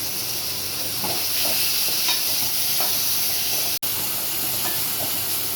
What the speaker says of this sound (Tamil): வதங்கி வதங்கிடுச்சு தக்காளி